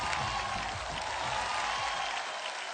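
An award-show audience at IBFA 2019 applauds a singer-actor with dense, continuous clapping and scattered cheers, a steady wash of crowd noise throughout.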